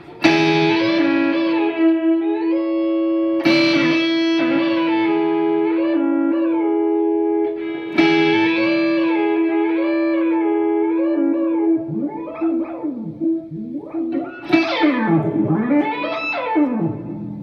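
Electric guitar played through a Digitech Whammy DT pitch-shifting pedal with distortion and compression, sustained notes and chords sliding up and down in pitch, bending swoops and wobbling glides, loud and up close with no voices.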